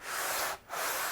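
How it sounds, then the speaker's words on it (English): Steady abrasive rubbing of 220-grit paper on a leveling beam sanding a guitar body joint, light pressure, close and continuous with a brief pause midway. "and just sand this joint"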